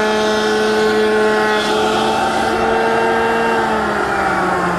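A router with a roundover bit runs along the edges of wooden library ladder treads, a loud, steady, high whining drone that holds throughout with slight pitch shifts.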